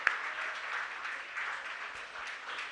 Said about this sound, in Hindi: आप तालियां लगातार बजती रहें।